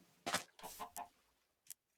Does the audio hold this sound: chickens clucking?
yes